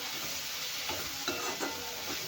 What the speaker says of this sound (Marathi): तर बघा तेलात टोमॅटो पण आपले छान भाजले आहे